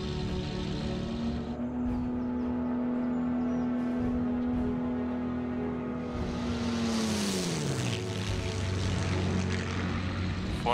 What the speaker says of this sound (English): Maximum military power.